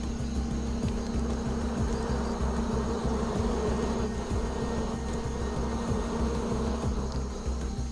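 A dense, steady swarm of wild bees buzzing close by at a giant rock hive, a continuous droning hum with slight shifts in pitch throughout.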